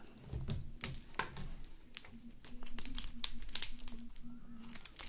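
Handmade slime being squeezed in the hands gives off sparse, soft clicks and crackles. A faint steady hum runs under them.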